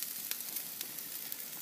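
Beef ribs sizzle faintly on a grill set to low heat near the smoke, a soft constant hiss with small pops.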